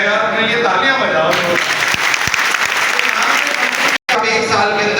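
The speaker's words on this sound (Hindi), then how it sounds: "तालियां बजाओ।" A seminar audience breaks into loud, sustained applause, a thick wall of clapping with voices mixed in, cut briefly by a short dropout before resuming.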